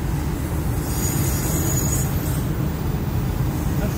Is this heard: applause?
no